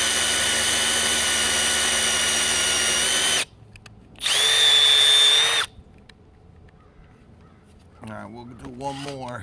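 A Milwaukee M12 Fuel Gen 2 hammer drill whines at high speed in two bursts, a long run then a shorter, higher-pitched one after a brief stop, followed by quiet and a voice talking near the end.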